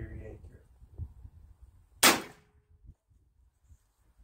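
Single shot from a Cattleman T2 PCP air rifle fired outdoors during accuracy testing in wind: one sharp, fairly loud crack standing out from low wind rumble, with a brief tail afterward.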